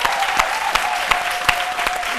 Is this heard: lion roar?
no